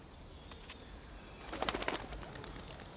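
Pigeons in an outdoor setting, a few soft coos and faint flutters over a steady background hiss, with a busier cluster of calls near the end.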